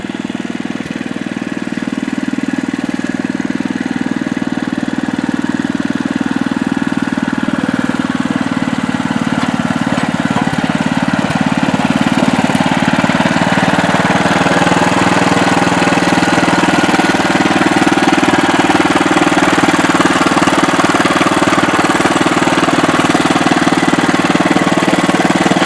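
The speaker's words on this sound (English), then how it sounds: "Larry's got the rototiller out ready to put on the trailer." A rototiller engine runs steadily and loudly nearby, a continuous mid-pitched motor drone with a slight rise in intensity partway through, no voices.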